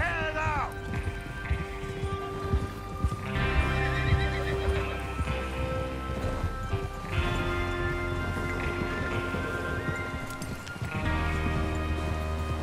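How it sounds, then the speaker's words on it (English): Horses in Red Dead Redemption 2 whinny repeatedly over a background of hoofbeats and movement, with voices talking intermittently among the loud, close neighs. "Get your horses ready."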